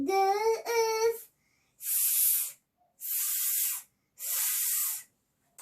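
A voice imitates a pressure cooker's hiss with three sustained, loud 'sss' bursts evenly spaced after a short voiced sound, with silence between each.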